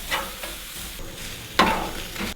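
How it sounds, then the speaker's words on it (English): Onions caramelizing in a pan for venison smash burgers, a steady close sizzle with soft stirring scrapes and a sharper burst of spatter near the end, with no talking. "caramelizing those onions really, I think, just makes them that much more special"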